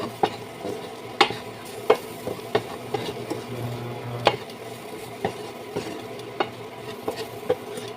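Garbanzo stew with cumin stirred in a pan, a series of irregular clinks and scrapes from a spoon over a low steady simmering sizzle, close and without voices.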